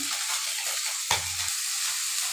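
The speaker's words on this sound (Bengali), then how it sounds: "এই মাছগুলো ভাজা হয়ে গেল" Puti fish fry in a pan, a loud, steady bright sizzle that runs throughout, with a brief clink of a utensil stirring partway through.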